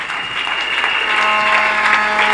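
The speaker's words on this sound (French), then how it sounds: "Nous acclamons très fort" A church congregation bursts into loud, sustained applause, a dense wash of clapping from many hands that carries steadily from start to end, with a faint tone lingering underneath.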